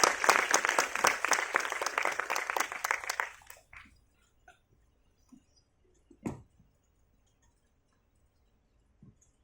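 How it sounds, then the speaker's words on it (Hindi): Audience applause welcoming a guest lecturer, Dr. Rajeev Dwivedi, onto the stage at a public lecture hall: a dense burst of many hands clapping for about three and a half seconds, then fading into near silence with a few scattered thumps. "महोदय का जोरदार तालियों से स्वागत करें"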